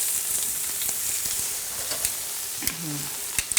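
Beef sizzles and hisses steadily on a hot griddle, with a few clicks and clatters of tongs scattered through the frying.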